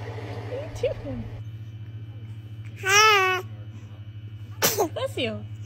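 A baby babbles and coos, then lets out one distinct sneeze partway through, followed by more soft baby vocalizing over a steady low background hum.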